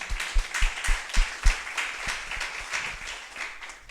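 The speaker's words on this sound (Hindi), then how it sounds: "कोई लोग ऐसे ताली बजा रहे हैं" A church congregation at a Sunday service clapping in a quick, uneven rhythm, with strong claps early that soften into a looser patter.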